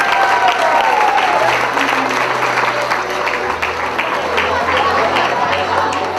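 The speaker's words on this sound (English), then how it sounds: "A big round of applause for Jody and John Cortman" Audience applause at a wedding party introduction, a loud steady mass of clapping mixed with crowd noise and cheering, lasting the whole stretch, with some talking underneath.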